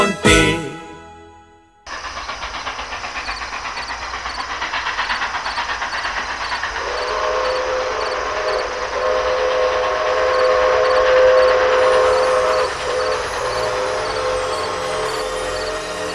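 Cartoon sound effect of a train running, opening with a short burst, then a steady rushing hiss and rumble with a sustained whistle tone sounding through the middle, loud and without speech.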